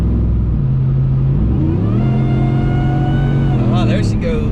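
A supercharged Hemi truck engine with a Whipple blower idles and rumbles steadily, then revs up with rising pitch near the end, loud and close, with voices talking over it.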